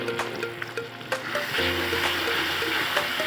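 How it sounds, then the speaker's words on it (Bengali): Onion sizzling in a pan, a steady close frying hiss that grows denser midway, broken by a few sharp clicks and scrapes from stirring. "যে পেঁয়াজটা ভাজা হচ্ছে এখানে"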